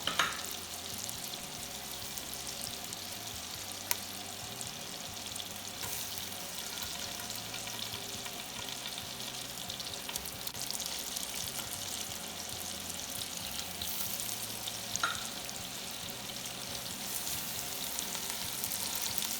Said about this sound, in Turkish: Ve etlerimi öncelikle bir Kızartıyorum tereyağında.